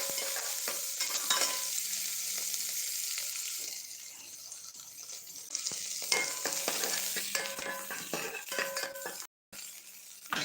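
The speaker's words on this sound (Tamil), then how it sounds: "சின்ன வெங்காயம் அதையும் சேர்த்துக்கலாம் சேர்த்துட்டு நல்லா வதக்கிக்கலாம்" Shallots and broken dried red chillies sauté in a pan for a manathakkali greens dish, a soft steady sizzle broken by repeated spatula scrapes and stirring clatter, close and fairly quiet.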